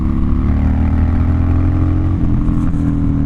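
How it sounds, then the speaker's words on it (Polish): A 2014 Harley-Davidson Dyna Street Bob motorcycle engine rumbles loudly and close, a deep bassy exhaust idling steadily with a slight shift near the end. "Ten odgłos wydechów jest taki, bym powiedział, basowy."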